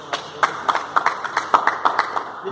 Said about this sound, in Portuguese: Eu quero pedir palmas aqui a todos